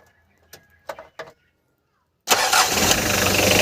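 A Hyundai Grace van's engine cranks and fires after a few soft clicks, then settles into a loud, steady running roar close by.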